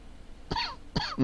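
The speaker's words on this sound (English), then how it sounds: "Sorry about the coughing." Two sharp coughs close up, a brief pause between them, followed by the start of a throaty rasp.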